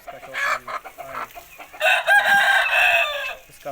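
Up close, a chicken sitting on eggs gives short broken clucks that run into a longer, louder drawn-out cackle.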